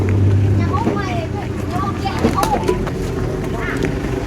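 Strong wind buffeting the microphone outdoors, a steady loud roar throughout with someone talking over it.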